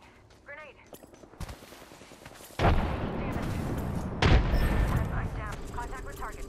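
Heavy video game gunfire with loud sustained automatic bursts and booming impacts, close and intense, following quieter scattered shots, with a voice speaking under it.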